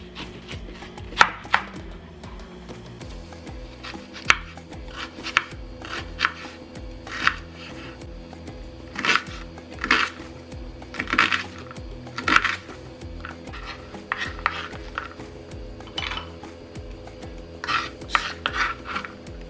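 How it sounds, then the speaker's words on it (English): A knife chops an onion on a cutting board for a slow cooker smothered pork chops recipe, with steady close knocks in irregular bursts and no talking. "First, we're going to start by chopping our onion."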